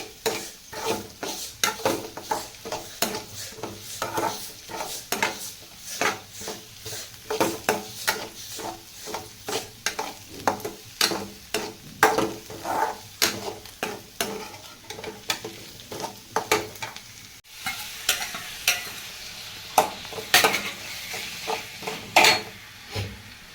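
Onions sautéing in oil in a pan for chicken masala, a continuous sizzle broken by frequent rhythmic clanks and scrapes of a ladle tapping and stirring against the metal pan.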